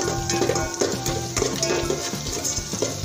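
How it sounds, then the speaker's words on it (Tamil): Garlic roasts in butter in a pan as veg masala noodles are made, giving a steady close sizzle with soft scraping stirs and light pan knocks throughout. "பூண்டு நல்லா ரோஸ்ட் ஆகிட்டு வரும்."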